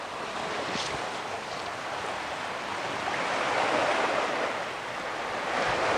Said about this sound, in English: Maybe you can hear the waves in the background.